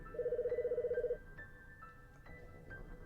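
A pulsing electronic telephone ring in Famicom Detective Club, one ring burst of about a second, then quiet game ambience with faint chime-like tones.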